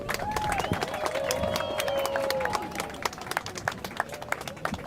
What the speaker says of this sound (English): I also want to give a very round of applause to all of the speakers, the organizers, all of you for coming